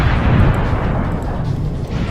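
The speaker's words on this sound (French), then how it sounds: "Explosion." A loud video game explosion erupts into a deep, sustained rumbling roar that fills about two seconds before easing slightly, with no voices over it.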